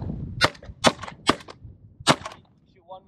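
Four sharp shotgun blasts fired at sandhill cranes during a Saskatchewan hunt, spaced unevenly over about two seconds, each loud and close with a brief tail, followed by faint background sounds.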